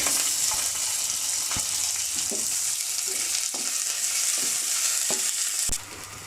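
Onions fry in oil with fenugreek, green chili, garlic and curry leaves, a continuous loud sizzle close by, broken by scattered knocks and scrapes of a spoon against the pan.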